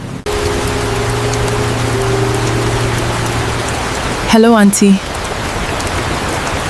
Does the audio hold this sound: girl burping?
no